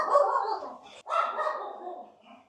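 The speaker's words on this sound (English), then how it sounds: "This dog." A dog gives two close, fairly loud barks, each trailing into a whiny tail, with a brief gap between them.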